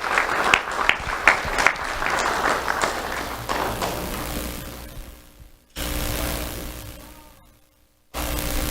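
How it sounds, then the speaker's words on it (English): At a sheriff's office awards ceremony, the audience applauds a third-grade honoree with broad clapping that fades out by about five seconds, then gives way to quiet and short bursts of room noise. "Let's have a round of applause for Adelicia Cadet."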